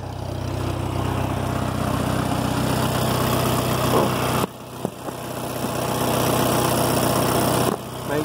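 A 1964 Farmall Cub tractor engine with a new carburetor idles steadily near the exhaust, a loud continuous low rumble with a brief dip midway and a few small knocks, no talking.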